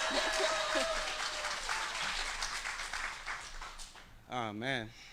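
Applause from the crowd at a service dog graduation ceremony fills most of the moment, then thins out as a voice speaks over the tail end.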